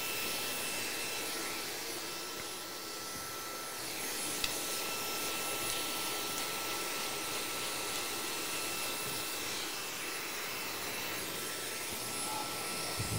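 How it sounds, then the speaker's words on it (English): Hair blow dryer running continuously on a barbershop client's hair, a loud steady airy roar with a high whine, no talk over it. "With proper blow drying, it really does take some time."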